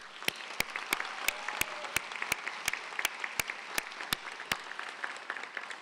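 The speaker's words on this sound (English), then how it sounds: "let's give another round of applause to our keynote speaker" Steady audience applause at a 2024 new student convocation, honouring the keynote speaker, filling the hall with dense clapping and sharp regular claps standing out above the crowd throughout.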